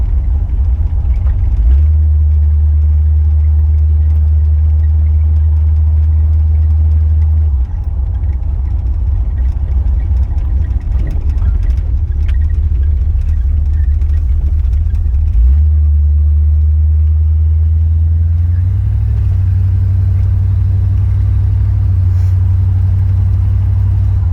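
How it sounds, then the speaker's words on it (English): A 1967 Cougar's engine runs steadily close by with a deep, continuous drone. Its pitch climbs slightly near the end as it revs a little higher, with no talking. "The old girl's running really good, this car."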